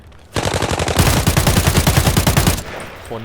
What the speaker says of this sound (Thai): ตอนนี้มันยิงกันระนาวเลย